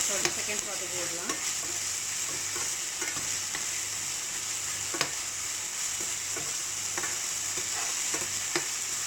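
Ginger garlic paste sautés in a pan for a chicken potato gravy, giving a steady, loud, close sizzle with occasional scraping stirs and light clinks of a spoon against the pan, with no voices.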